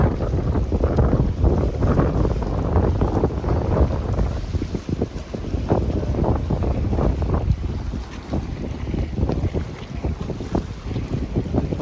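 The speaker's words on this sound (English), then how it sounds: "As you can see here where the waves have been splashing up on top." Large waves splashing against a pier on Lake Chapala, Mexico, on a windy day, heard as continuous rough water wash under heavy wind buffeting the microphone.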